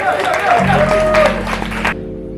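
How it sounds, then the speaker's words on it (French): An audience applauds a performer named Mivuba at a slam poetry event in Burundi, a short burst of clapping and crowd noise under a voice, fading out abruptly. "amashyi menshi kuri Mivuba"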